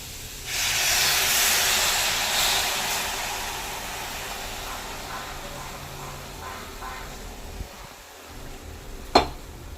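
Milk poured into a hot pan of grated carrots for carrot halwa sends up a loud, broad hiss that swells at once, then slowly fades to a softer simmering fizz, ending with a couple of faint clinks.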